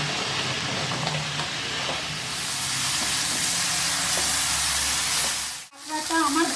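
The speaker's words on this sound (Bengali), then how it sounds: "কাঁকড়াটা হাই হিটে ভাজবো" Crab seasoned with salt and turmeric frying in oil on high heat, a loud continuous sizzle and hiss filling the clip, briefly dropping out near the end before resuming.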